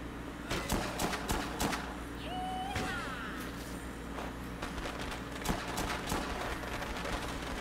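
Firecrackers pop in the video game Dead Rising 2, a rapid series of sharp cracks scattered across the stretch with a whistling streak in the middle, no voices.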